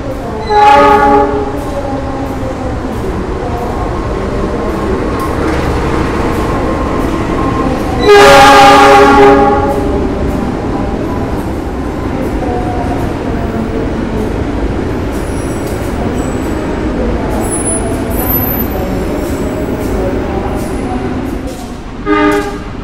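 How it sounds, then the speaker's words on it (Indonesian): An oil freight train rumbles steadily through a station without stopping, with a loud horn blast partway through and faint wheel squeals, no voices. "Yang akan melintas langsung di jalur 3 adalah kereta api"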